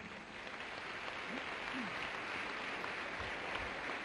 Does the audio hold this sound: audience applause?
yes